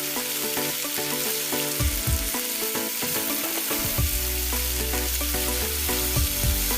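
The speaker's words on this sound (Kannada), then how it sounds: "ಮೀಡಿಯಮ್ ಹೀಟ್ ಆಯಿಲ್ದಾಗ ಇದನ್ನ ಫ್ರೈ ಮಾಡ್ಬೇಕ್ರಿ" Okra kurkure frying in medium-hot oil in a kadai gives a steady, loud sizzle under prominent background music.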